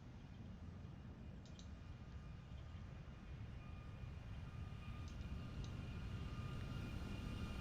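A live-traffic airliner flies past in a flight simulator, heard as a steady broadband engine roar that swells slightly over several seconds, with no voices.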